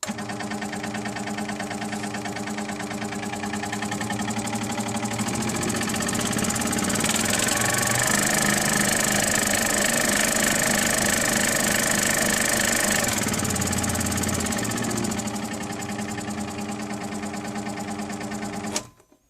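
An Axminster AC405SS scroll saw runs steadily with a continuous mechanical whir and rapid blade-stroke vibration, loud and close throughout, rising slightly in the middle before switching off at the end.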